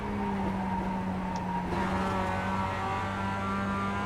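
A production race car in the iRacing sim at Oulton Park holds a loud, steady engine drone heard from onboard, its tone rising gently under power with no pauses.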